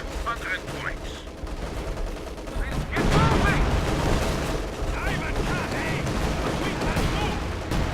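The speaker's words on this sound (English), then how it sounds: "we're going to go ahead and lay down that artillery barrage" An artillery barrage rumbles through a World War II real-time strategy battle in Company of Heroes 2, with heavy booms and overlapping gunfire thickening midway, while someone talks over the din.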